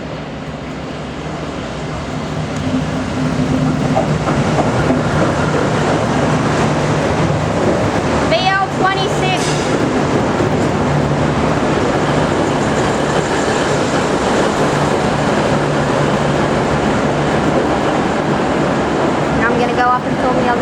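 A V/Line Velocity diesel railcar pulls into Bendigo station, a steady broad rumble building early and holding throughout, with a brief squeal near the middle and wind buffeting the microphone.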